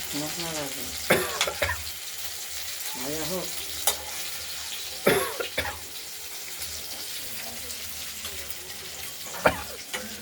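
Potato and eggplant pieces frying in a pan for a hilsa fish curry give a continuous low sizzle, broken by several sharp scraping stirs and clatters spaced through the stretch.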